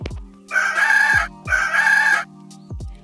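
A rooster crows loudly twice in a row, then starts a third shorter call, close by with no talking.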